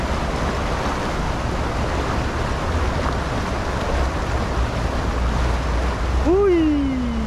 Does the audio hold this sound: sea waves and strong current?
yes